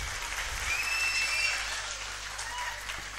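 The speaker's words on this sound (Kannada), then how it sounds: "ಚಪ್ಪಾಳೆ ತಟ್ಟಿ" An audience claps for a live stand-up comedy show: a dense, continuous round of applause that fades slightly toward the end.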